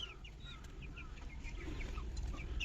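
Soft chicken clucks and chirpy calls, including a Silkie hen pecking at food, come in short bursts over a low, steady rumble, with small pecking sounds close by.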